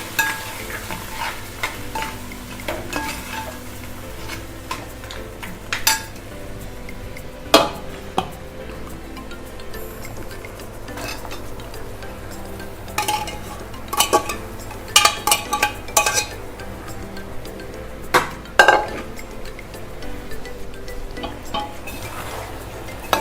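Spoon stirring cooked tapioca with fish heads in a pan, repeated scraping and clinking strokes over a low sizzle, irregular and close, with no talking.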